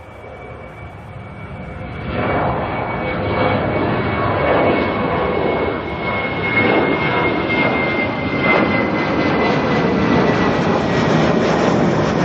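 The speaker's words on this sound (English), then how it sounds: "coming down the runway next, we have got a Jetstar A380 heading off to Queenstown." Jetstar Airbus A380 taking off down the runway at Auckland Airport, bound for Queenstown: a deep jet engine roar that swells after a couple of seconds into a loud, sustained rumble with a whining tone, heard alone.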